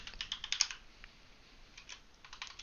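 Fingers typing on a computer keyboard while writing C# code, a close run of quick key clicks in irregular bursts, moderately loud, with no one talking.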